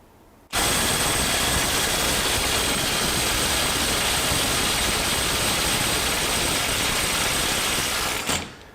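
A DeWalt DCF850 Atomic 20V impact driver running on a 4Ah battery hammers without a break for about eight seconds, a loud, dense, buzzing rattle that starts and stops abruptly, close up and with no voices.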